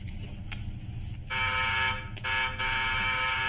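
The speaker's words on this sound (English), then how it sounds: "That's the front door buzzer." Front door buzzer sounding in two harsh, loud electronic bursts, the second broken by a brief gap, over a low background hum.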